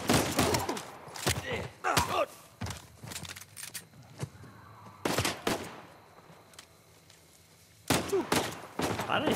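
Bursts of gunfire in an Uncharted 4 Remastered firefight on PS5 ring out in clustered volleys of sharp, close shots, with a quieter lull in the middle before another burst.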